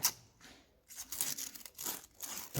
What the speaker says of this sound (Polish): druga to samo, papierkiem, delikatnie